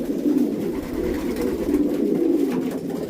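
Racing pigeons cooing close by in a loft, with soft low rolling coos overlapping in steady repeated phrases for a few seconds and no talk.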